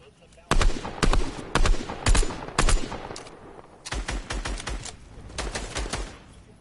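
Bursts of automatic gunfire in the battle-royale video game Apex Legends, with several loud rapid volleys in the first half and steadier, somewhat quieter firing afterward.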